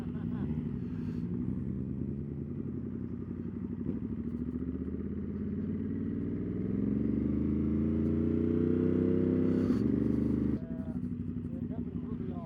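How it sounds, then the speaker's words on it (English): A 2022 Monster two-cylinder motorcycle engine idles with a deep, steady throb, swelling louder toward a stronger rev before settling again, with people talking over it. "I can't believe a two-cylinder can sound like this."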